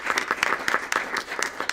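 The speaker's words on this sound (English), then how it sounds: "Big round of applause for Dr." A school board meeting audience applauds a board member being honored with a plaque for service. The clapping is dense, steady and fairly close, lasting throughout with no talking.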